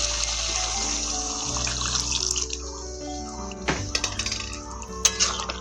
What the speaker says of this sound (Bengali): তো অল্প হালকা এরকম জল দিয়ে নিচ্ছি।